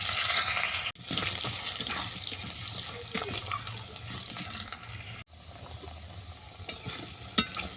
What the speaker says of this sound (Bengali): ফোড়ন ভাজা হয়ে গেছে, এর সঙ্গে আমি আলুটাকেও তুলে দেবো